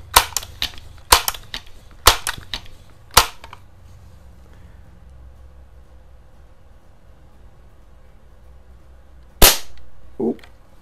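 A Crosman 2100 Classic .177 multi-pump air rifle fires, a sharp close crack heard several times at about one-second intervals, then a quieter stretch and a final louder shot followed by a brief rattle.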